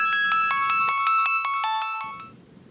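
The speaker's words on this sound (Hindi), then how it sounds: "फोन आ लिया" Electronic phone ringtone in a comedy film spoof, a loud, clear melodic pattern of repeating beeps that plays alone for about two seconds before cutting off.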